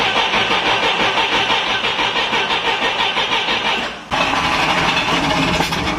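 A UAZ 452 van left unused for weeks cranks and starts, its engine running loud and steady with a brief dip in the middle, close by and without talk.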